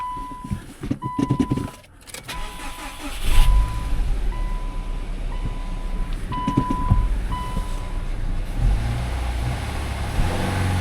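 A Toyota Avalon engine rumbles and idles steadily up close, with a repeating beep chiming in the background and some clicks and rattles early on.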